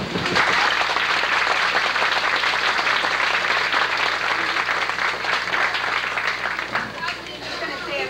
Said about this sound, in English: So I think we owe them a big hand of applause.